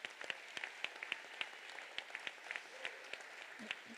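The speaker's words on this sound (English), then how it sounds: "We'll give you one more round of applause, guys" Scattered applause at a middle school Moving On ceremony: individual claps pop out distinctly against a quiet room, faint and somewhat distant, with no voices over it.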